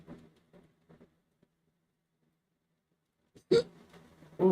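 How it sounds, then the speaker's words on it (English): Soft, faint hiccups spaced a few seconds apart in a quiet room, followed by a couple of louder, sharper bursts at the end. "Ooh, hiccups."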